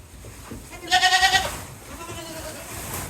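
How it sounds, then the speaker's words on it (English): Goats bleat in a short burst of wavering, quavering calls near the middle, loud and close, with quieter bleats trailing afterward over a farmyard background as they wait for dinner in the snow. "The goat friends are excited."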